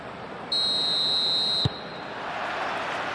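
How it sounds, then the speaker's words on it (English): A referee's whistle starts a Manchester United vs Aston Villa Premier League match in a football video game, one long steady blast of about a second ending in a sharp click, with crowd noise continuing underneath. "There's the whistle, and here we go."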